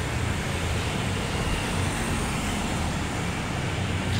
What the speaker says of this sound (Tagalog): Tatawid po ako ang daming sasakyan